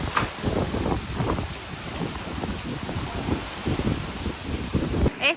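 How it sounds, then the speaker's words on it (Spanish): Heavy rain pours down steadily at a beach on Koh Rong, Cambodia, with a low rumble and gusts underneath and some faint voices mixed in. "Está lloviendo con todo."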